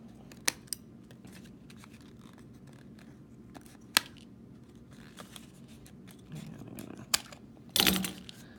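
Scissors snip through thin material while a spring clip is trimmed and shaped, giving a few sharp, isolated cuts spread out over quiet pauses, with a longer, denser burst of cutting near the end.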